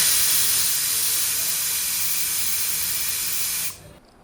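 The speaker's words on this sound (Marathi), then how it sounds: "मी इथे कुकरच्या 2 शिट्ट्या घेतल्या होत्या" Steady, loud hiss of steam venting from a pressure cooker as chana dal boils with water and turmeric, a continuous bright whistle that holds for several seconds and then cuts off abruptly near the end.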